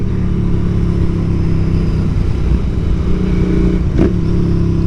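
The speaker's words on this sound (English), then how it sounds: "Oh, those downshifts. Those downshifts though." A Royal Enfield Continental GT motorcycle with a 2-into-1 exhaust drones loudly and steadily at close range, with one brief sharp blip near the end.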